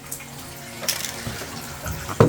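Warm water running from a tap into a container for soaking resin prints, a steady splashing stream at close range with a louder gush near the end, no voices.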